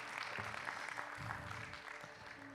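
Soft, fairly faint applause from a church congregation during a family worship meeting, a short stretch of scattered clapping without voices.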